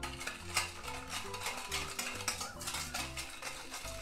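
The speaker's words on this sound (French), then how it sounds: "je rajoute la levure, je rajoute mon sucre, mes 40 g de sucre. Et je vais mélanger tout ça." A utensil stirs yeast and sugar into warm water in a bowl, making soft, rhythmic scraping and clinking sounds that run quietly through the whole stretch with no talking.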